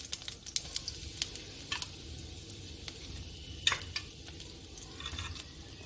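Cumin and coriander seeds sizzling in hot oil in a pan, a faint, soft crackle under a few sharp ticks and light spoon stirring, quiet throughout with no talk.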